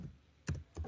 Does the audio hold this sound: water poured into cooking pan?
no